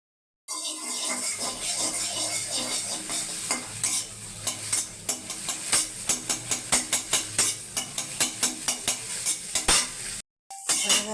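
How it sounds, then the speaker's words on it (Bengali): Two eggs cooking in a wok for egg bhujia, stirred briskly with a utensil: a continuous sizzle beneath rapid, rhythmic scraping and clinking against the pan, close and fairly loud. "ডিমের ভুজিয়াটা করে নেব।"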